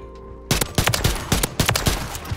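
Gunfire from a slow-firing gun in a first-person video game: about eight loud, sharp shots at uneven intervals after a brief quiet opening, each a hard, booming crack close to the listener.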